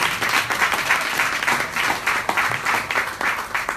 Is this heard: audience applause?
yes